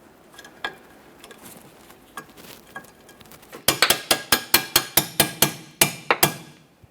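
Light hammer taps ring out on sway bar link hardware under a 2007-2017 Jeep Patriot, a few faint knocks first, then a brisk run of about a dozen sharp metallic strikes at an even rhythm, close and clear.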